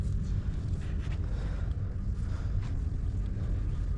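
Steady outdoor wind roars and buffets against a microphone beside a 2004 Duramax truck at dusk on a farm equipment sale lot, a continuous low rumble with gusty hiss and no speech.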